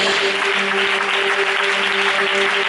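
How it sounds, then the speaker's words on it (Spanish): Steady applause from a church congregation after a pastor's sermon, a dense and even crowd of clapping hands that holds at the same level throughout, with no voices standing out. "Si queréis dar un aplauso al Señor y a la palabra"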